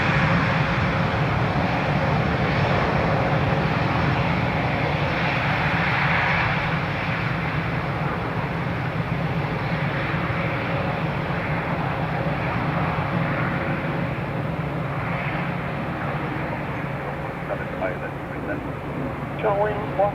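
Aer Lingus airliner arriving from Berlin at Dublin Airport, in rugby livery, a steady broad jet engine roar sustained throughout at moderate distance, with faint talk over it.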